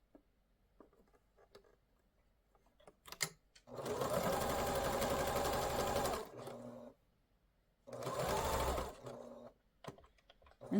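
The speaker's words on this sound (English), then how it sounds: "I'm going to do a little back stitch" A sewing machine runs a short back stitch on a quilt binding in two distinct bursts of rapid mechanical stitching, close and clear, separated by quiet handling sounds.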